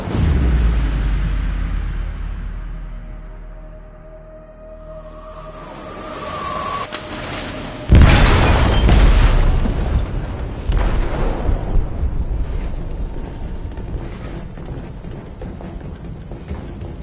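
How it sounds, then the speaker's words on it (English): Explosion in a ship's hold in the game Detroit, a deep booming blast that falls away to a low rumble, then a second sudden loud burst with crashing debris and a long roaring, churning aftermath, no talk. "They detonated an explosive in the hold"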